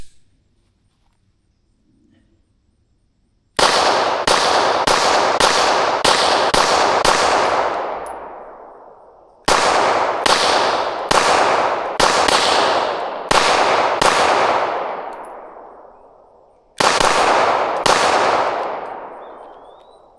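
A Canik MC9 Meta Prime 9mm pistol fires in three quick strings of sharp, loud shots, each followed by a long echoing decay, with short pauses between strings.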